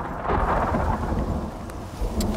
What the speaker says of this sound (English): I'm going to wait for the storm to finish.